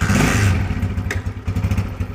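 A cold Honda CG 125 or 2004 Yamaha Excellence 100 motorcycle engine rumbles close by, opening with a brief louder burst then settling into an uneven, throbbing idle with pulsing low thumps.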